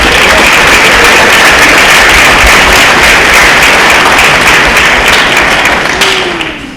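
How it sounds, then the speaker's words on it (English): A large crowd at a junior varsity and ninth-grade football banquet claps loudly and densely, a continuous roar of applause that holds strong before tapering off near the end. "But Jill Shepard deserves a round of applause as well."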